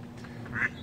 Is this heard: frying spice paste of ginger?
no